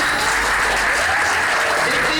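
A crowd at a Skybyz World business event claps in a loud, continuous burst of applause. A voice carries over the clapping throughout.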